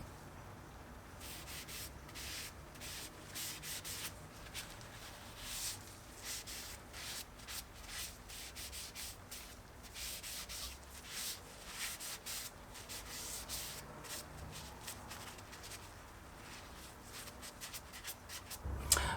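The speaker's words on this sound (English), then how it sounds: "I'm actually going to be using Danish oil to secure the wood on these" Danish oil rubbed by hand onto small wooden bench dog clamps, a soft continuous scuffing with quick repeated strokes, close and quiet with no voices.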